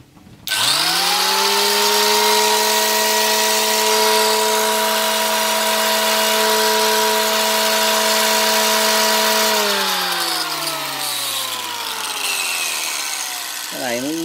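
Handheld disc sander with a 10 mm sanding disc test-run on its own: a loud, steady motor whine with strong harmonics spins up quickly, holds evenly for about nine seconds, then winds down in falling pitch, with no talking.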